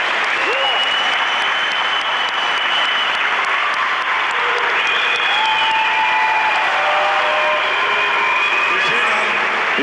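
A crowd in a weightlifting arena at the 1997 European Championships, 83 kg class, applauds loudly and continuously with shrill whistles rising over it, while a commentator talks underneath.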